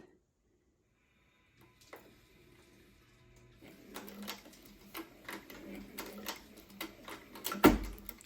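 After a quiet start, a sewing machine stitches a leather headstall cheek piece in quick, rhythmic bursts that grow louder, ending with a sharp clunk as the mechanism catches.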